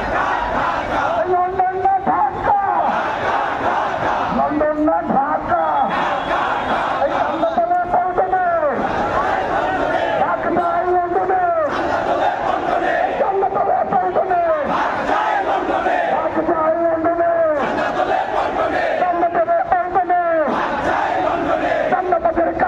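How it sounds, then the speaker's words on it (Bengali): A large protest march crowd chants slogans against extortion in Bangladesh, loud rhythmic call-and-response shouting repeated in steady bursts throughout, close and continuous. "এমনকি তারা চাঁদাবাজি বন্ধের প্রতিবাদে বিভিন্ন স্লোগান দিচ্ছেন।"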